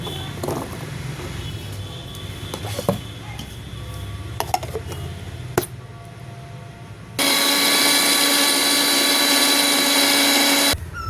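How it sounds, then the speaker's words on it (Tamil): A kitchen blender grinds beetroot for juice, a loud steady whir that starts abruptly after quieter kitchen clatter and runs for about four seconds before cutting off. "பீட்ரூட் அரைச்சி எடுத்துக்கலாம்."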